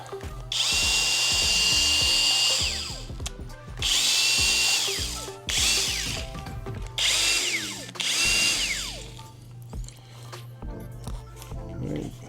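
A power drill running at speed 1 whirs in several loud bursts, spinning up and winding down between pauses, close and high-pitched.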